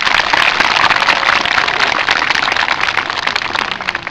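An audience breaks into a dense, steady round of applause for a guest speaker, many hands clapping continuously at a fairly loud level throughout.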